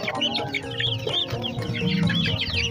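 Broiler chicks about two months old cluck and chirp in a busy, overlapping chorus at a market, close and fairly loud, with no talking.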